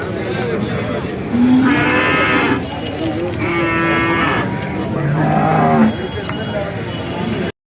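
Cattle moo three times, long low calls spaced a couple of seconds apart, heard over steady outdoor background noise.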